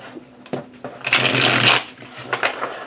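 Tarot cards riffled and shuffled by hand, with a few quick card snaps followed by a longer continuous burst of shuffling and some lighter flicks at the end, close and crisp.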